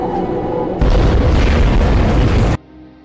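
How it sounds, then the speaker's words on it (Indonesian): A sudden loud blast erupts into a sustained roaring rumble for nearly two seconds, then cuts off abruptly to quieter background. "Beberapa detik sebelum bom itu meledak"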